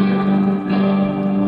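A guitar plays through a NUX MG-30 preset with plate reverb, giving a brief, loud, sustained chord with a smooth, shimmering reverb tail and no talking.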